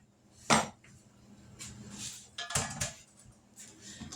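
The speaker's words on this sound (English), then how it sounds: "grab the cherries. We're going to pour them on top of that." Cherries poured onto an unstirred cherry cobbler base in a kitchen, heard as a sharp clattering burst early on, then softer scattered clinks and tumbling thuds against a dish, with no talk.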